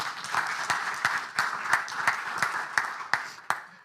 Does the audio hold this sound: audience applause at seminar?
yes